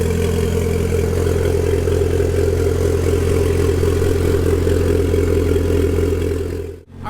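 A freshly built Nissan SR20 engine in an S14 idles steadily after its first start, a close, even mechanical hum with light clatter that holds throughout before a brief dip near the end.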